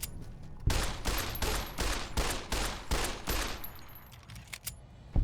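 Rapid gunfire in the video game Fallout New Vegas, a fast rhythmic burst of about ten loud, evenly spaced shots followed by a few scattered quieter pops and a final sharp shot, with no voices over it.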